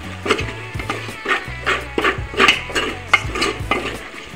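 A spoonful of mutton masala is stirred and sautéed in a pan for mutton curry: quick, rhythmic scraping and tapping against the pan over a low, steady background hum.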